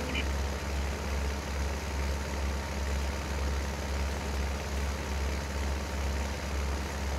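Tractor engine in Farming Simulator 19 on grass-raking work: a steady low droning hum that holds level throughout, with someone talking over it.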